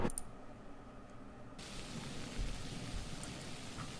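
Rain from the advanced weather system of the GODS video game, a steady, soft hiss of falling rain with a faint low rumble underneath, continuous and quiet throughout, with no one speaking.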